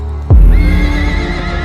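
A horse neighs loudly and close, a sharp onset whinny that settles into a sustained harmonic cry lasting over a second, over a low rumbling background.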